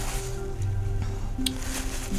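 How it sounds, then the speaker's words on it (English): A watercolor paintbrush is squeezed in a paper towel to press out water, giving soft damp squishing under a steady background hiss. "found some paper towel to wipe off my brush with and just squeeze out some water"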